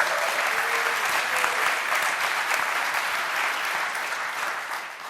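Sustained applause fills a conference keynote hall at a gutter industry summit, a dense, steady wash of many hands clapping that holds strong throughout and tapers slightly at the very end.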